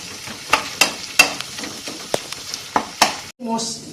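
Spice paste for chicken curry is fried down in a pan, with repeated sharp scraping strokes of a spatula over a steady sizzle, then a short pause and a brief, quieter clink at the end.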